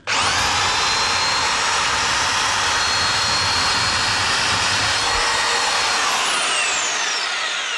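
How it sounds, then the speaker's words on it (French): A power drill bores into an old wall, a loud, continuous high-pitched whine held close for several seconds, with no talking over it. "Je vais percer un peu à côté pour voir si c'est plus simple."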